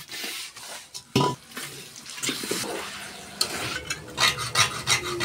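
Meat being mixed with spices by hand in a bowl before cooking in mustard oil, heard as wet squelching and rubbing with occasional clinks of a dish, close and fairly loud, no talking.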